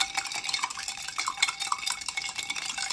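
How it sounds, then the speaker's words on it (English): A cocktail being stirred in a glass with a spoon, giving a steady run of light metallic clinks and scraping, close and fairly quiet, with no talking. "So let's stir this up."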